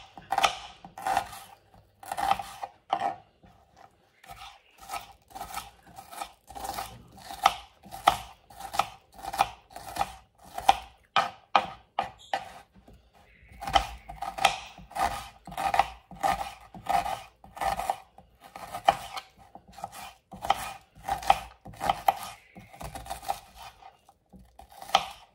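A knife dices a small washed onion into cubes on a cutting board, making a long run of quick, steady chopping taps with brief pauses, close and clear, with no talking.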